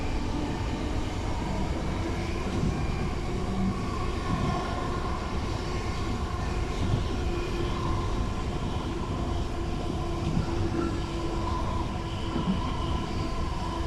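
A 30-year-old West Midlands Railway Class 323 electric multiple unit rumbles steadily at close range, a continuous low mechanical drone with a faint rising electric whine as it accelerates.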